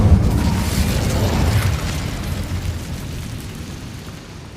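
An Incendio fire spell in Hogwarts Legacy bursts with a loud, deep roaring boom that rumbles and slowly fades over a few seconds, with no voices over it.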